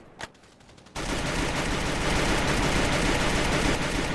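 Rapid automatic gunfire in the video game Free Fire, a dense sustained burst starting after a brief single shot, loud and continuous for several seconds with no talk over it.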